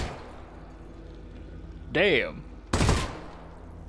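Burst-fire gunfire from a weapon in Half-Life: Alyx, one loud short burst near the end, preceded by a spoken exclamation over low game ambience.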